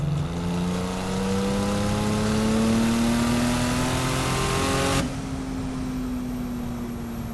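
A 1000whp twin turbo Porsche 911 with a flat six accelerates hard, its loud rising engine note climbing steadily, then cuts off abruptly to a lower steady drone as the throttle lifts, heard close from inside the car.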